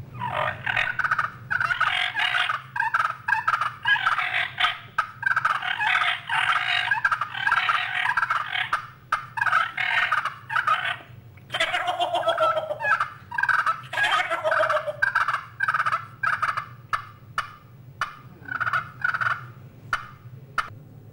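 At a festival turkey calling contest, a caller imitates turkey gobbles: loud, rapid, rattling gobble bursts repeated in quick runs with short pauses, near and clear.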